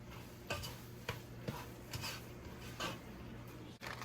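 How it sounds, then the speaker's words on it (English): A spoon stirs sausage mac and cheese in a pot, giving a few soft scrapes and clicks at an uneven pace over a low steady hum, close and quiet, with no talk. "Let's get this stirred up"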